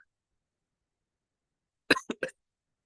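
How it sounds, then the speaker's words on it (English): A short, quiet burst of two or three dry coughs after near silence. "I will continue to cough a little because the pollution levels"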